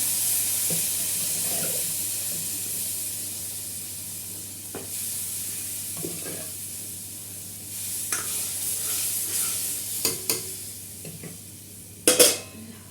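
Tadka of degi mirch for dal being tempered in a home kitchen, with a steady low sizzle running throughout and scattered stirring and utensil clinks, a few sharper clatters near the end.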